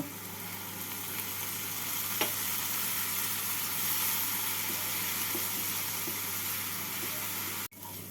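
Onion, ginger and garlic paste with spices sautéing in a pan with a little water, giving a steady close sizzle and hiss with occasional stirring scrapes throughout.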